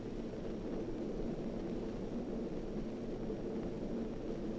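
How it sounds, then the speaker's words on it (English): A 1950s propeller airliner approaching an airport, heard as a steady, fairly faint drone and rumble that holds evenly throughout with no other sounds. "This plane is approaching the airport."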